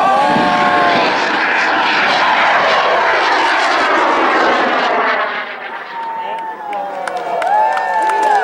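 A large group-built Moonliner model rocket lifts off at a club launch field with a sustained, loud roaring rush that slowly thins as it climbs away, while a crowd cheers and whoops over it.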